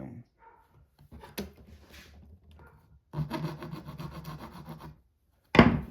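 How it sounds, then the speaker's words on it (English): An ordinary hand file scrapes in short, irregular strokes against a piece of work, with quiet gaps between bursts and a final sharp scrape; the strokes sound close and moderately loud. "just normal old file"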